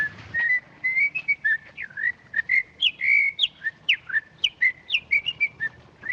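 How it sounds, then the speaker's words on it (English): A person whistles a quick, lilting jig tune alone, bright notes bouncing in a lively, steady dance rhythm, close and clear. "Nice day of the week to be whistling a jig on the streets."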